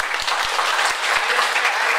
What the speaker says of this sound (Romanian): Vreau să auzim un ropă de aplauze pentru Mili Noșteri.